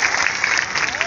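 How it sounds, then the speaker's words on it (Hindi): Applause from an outdoor political gathering in a village after a ground-breaking ceremony, a steady wash of claps that runs throughout the moment at moderate loudness. "ताली बजाओ साहब"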